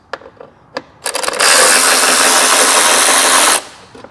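Power driver with a T30 Torx bit backing out short stubby step screws from the US light pods of a Vespa Primavera scooter: a few brief taps, then a loud steady whirring burst for about two seconds, close up.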